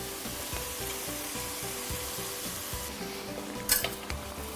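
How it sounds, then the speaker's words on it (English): Green beans sizzling in a pan as a Szechuan sauce mixture goes in, a loud steady hiss with rhythmic stirring scrapes and a brief sharp clatter near the end, close and alone. "Now we're going to add our Szechuan mixture."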